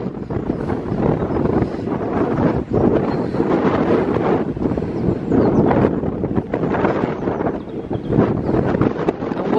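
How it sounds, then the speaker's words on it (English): Strong wind buffets the microphone on a hilltop at St Patrick's Chapel, Heysham, with a steady, loud roar that gusts and rumbles throughout, with no voices. "It's very windy up here."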